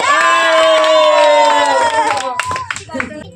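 A crowd claps and cheers for the second-place player at a fun football shooting game with prizes, breaking in near the end after a sustained sung or shouted tone, loud and close, with voices mixed in.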